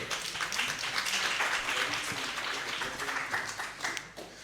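A lecture hall audience applauds at the close of a talk, steady mid-distance clapping from many hands that holds throughout and thins slightly near the end.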